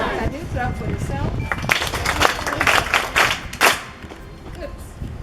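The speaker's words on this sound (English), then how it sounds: "can you clap for yourself?" Schoolchildren on a field visit to Kigali International Airport clap for themselves, a burst of many small hands that rises in the middle and fades out near the end, with an adult voice talking before and under it.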